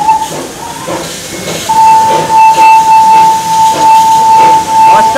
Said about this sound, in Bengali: দেখো দেখো আমাদের স্টিম ইঞ্জিন কিন্তু আস্তে আস্তে এগিয়ে চলেছে